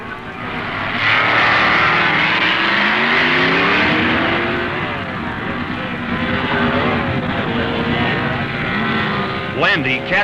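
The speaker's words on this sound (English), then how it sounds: "Dick Landy's modified production Dodge has drawn Carl Houchin Chevy from Kentucky." Engines of drag racing cars at the 1969 NHRA Nationals, a modified production Dodge against a Chevy, drone loudly and continuously with shifting revving tones throughout.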